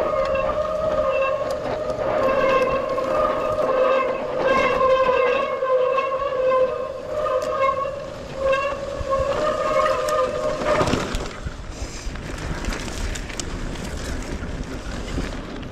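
Strong outdoor wind buffets the microphone with a steady roar throughout, while a sustained tonal hum rises and falls underneath before fading into rougher gusting noise in the later seconds; no speech.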